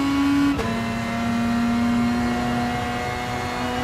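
A rally-style race car in the video game OTOCAR RX holds full throttle through a corner: a loud, steady engine drone with a sharp pitch drop near the start, then a sustained high rev that barely wavers, with no talking.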